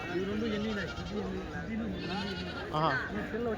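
Goats bleat in wavering calls close by at a goat and billy-goat market in Kadiri, mixed with people talking over a steady outdoor background.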